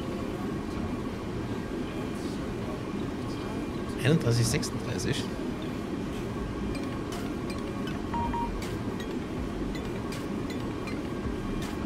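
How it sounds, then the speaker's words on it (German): An oncoming train passes in the railway simulator SimRail, a steady low rolling rumble with a brief louder rush of clatter midway, while someone talks throughout. "Ach, das ist ein Zug, der entgegenkommt."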